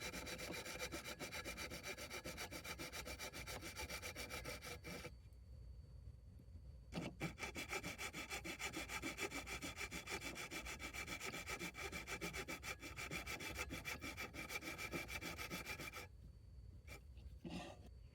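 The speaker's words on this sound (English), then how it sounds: "I'm going to cut it out and rough sand it." Wooden sword being shaped by hand with a saw and rough 80-grit sanding, a close, steady back-and-forth rasping scrape that runs almost continuously with a few short pauses, no talking.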